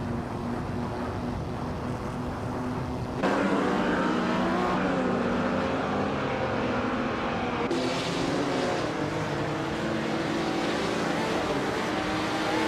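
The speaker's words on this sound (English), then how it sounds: "Naibe is piloting a 1957 Ferrari 250 Testarossa" A 1957 Ferrari 250 Testarossa races in a video game, its engine roaring loud and continuous as the pitch sweeps up and down through gear changes, with a sharp shift in tone partway through.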